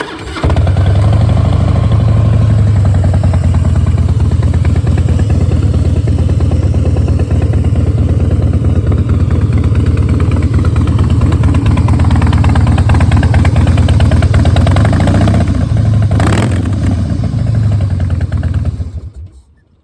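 A 2001 Harley-Davidson Fat Boy with fuel injection idles loudly and close up, a deep throaty exhaust rumble that swells with occasional revs before cutting off at the end.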